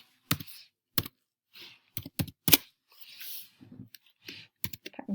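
Keystrokes on a computer keyboard as a spreadsheet formula is entered, sharp clicks in short bursts and separate taps with pauses between them, fairly close and moderately loud, no talking over them.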